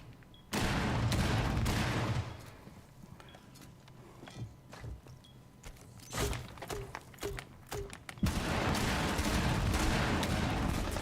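Scattered gunshots in a video game firefight, single cracks and short bursts at varying distances, some sharp and close, others muffled, with rapid tapping clicks and a heavy burst of fire near the end.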